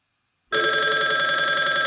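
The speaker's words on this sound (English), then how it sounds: "And my desk phone, you hear ringing because I'm in the same office." A desk phone in an office rings with an incoming call on a hosted phone service, bursting in loud and steady after a half-second of silence and continuing without pause.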